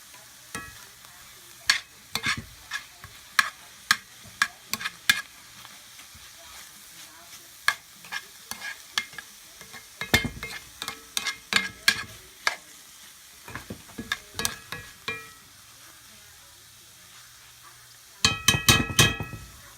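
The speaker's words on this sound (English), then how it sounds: "And then we'll stir it all up, and we'll see what it looks like when it becomes translucent." Seasoned onions fry in a pan and are stirred, a soft background sizzle under many sharp spoon clinks and scrapes against the pan, irregular and close, with a dense burst of scraping near the end.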